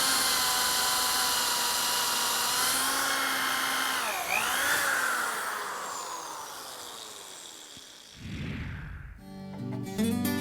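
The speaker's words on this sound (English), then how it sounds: "So let's get busy with the drill here" A power drill bores into a wooden chair leg for sculptured low-back furniture, its motor whining loud and close with shifting pitch as the bit bites, then winding down before a final short burst.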